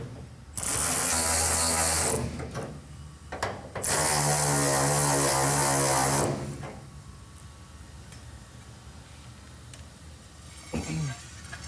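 Bolts are tightened with a ratchet wrench on a special deep socket, giving two loud bursts of rapid, buzzing clicks a couple of seconds apart, then quiet with a faint knock near the end.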